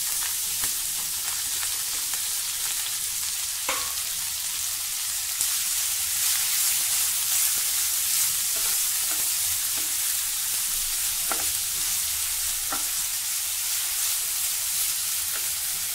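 Grated potato fries in a pan with green chilies, giving a soft, steady sizzle and hiss broken by occasional scraping taps as it is stirred, moderately quiet and close, without any talking.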